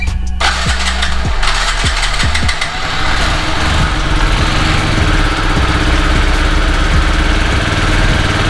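A cheap used Honda Zuma scooter, with a noisy CVT and a cutting-out problem, idles while warming up, giving a loud, steady engine drone close by with no talk.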